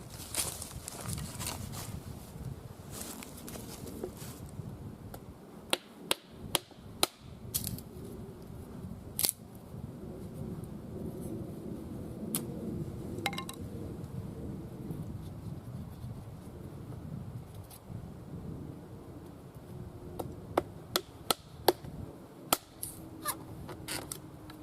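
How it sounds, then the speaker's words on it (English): A Demko Freereign knife splits small pieces of wood into kindling outdoors, giving sharp irregular cracks and snaps scattered over quiet scraping and rustling, close and clear. "I'm going to split these down a bit smaller now for kindling, first stage kindling"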